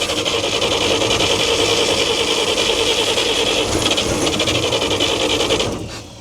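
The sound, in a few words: 1942 Chevrolet 4WD truck engine cranking, trying to start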